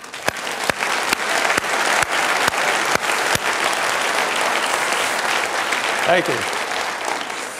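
An audience at a science lecture on climate applauds a scientist: a few sharp, loud individual claps at first, then sustained, even clapping, with a brief spoken thanks near the end.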